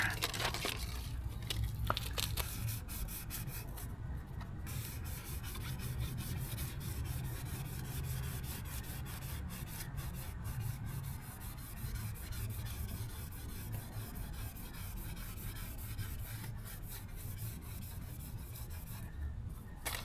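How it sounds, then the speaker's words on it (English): A 1500-grit Gator Super Sponge rubs rust off the paint of a 2004 Mustang with a continuous, rough abrasive scrubbing, close and steady for the whole stretch, with brief pauses. "Let's see if the 1500 Gator Super Sponge will take that little bit of rust off the paint here."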